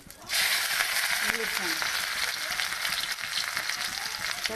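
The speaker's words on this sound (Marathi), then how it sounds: "आता मी टाकते ह्यात कांदा हिरवी मिरची" Onion and green chilli hitting hot oil in a kadhai, a sudden loud sizzle that starts sharply and keeps hissing steadily, with occasional stirring clinks and faint background sounds.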